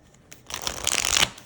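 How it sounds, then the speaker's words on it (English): A tarot deck with gilded edges is shuffled once, a brief close riffling flutter that builds over about a second and then stops, with no talking. "Like such a nice shuffle and beautiful gilding."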